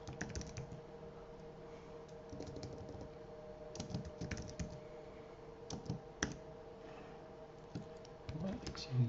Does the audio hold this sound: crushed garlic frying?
no